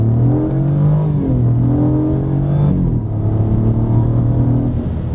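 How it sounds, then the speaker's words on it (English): A BMW prototype three-cylinder engine revs loudly and close, its pitch rising and falling through several throttle blips with a steady rumbling tone and no talk. "show the positive aspects of the three-cylinder in sound responsiveness of the engine, especially in the higher loads."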